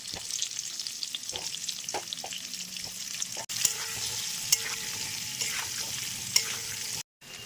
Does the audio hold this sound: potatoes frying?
yes